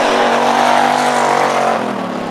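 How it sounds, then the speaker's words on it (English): A race car engine drones loudly on the oval track at the KRP Oval grand opening, holding a steady high whine before easing slightly, close and continuous. "Look at Lonnie Baker go, just tearing up the track."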